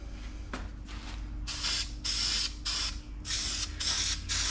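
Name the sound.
spray painting car exhaust manifolds with caliper paint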